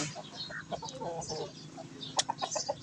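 A large Burmese chicken clucks in a run of short, close calls, the bursts irregular and moderately loud against quiet rural background.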